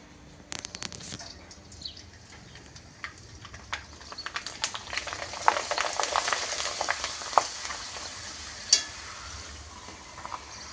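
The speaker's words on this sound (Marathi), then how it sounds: "एवढ्या मेहनतीने केलेले पापड ज्ञानेश्वरी ताई मला तळून दाखवत आहेत." Hand-made potato and sago papad deep-frying in hot oil: a soft, steady crackle that builds in intensity over several seconds, dotted with sharp little pops and spatters, fairly quiet and close, with no talking.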